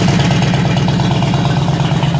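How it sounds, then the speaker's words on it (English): Harley-Davidson Road King motorcycle, a neglected bike brought back to running, idling steadily after warm-up with an even low throb and light mechanical clatter, close and loud throughout. "Engine sounds healthy."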